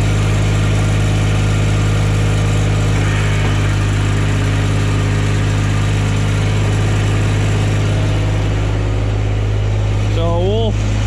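A Cub Cadet 982D garden tractor engine drones steadily and loudly at close range with a deep, even hum, while a short whining pitch sweep rises near the end.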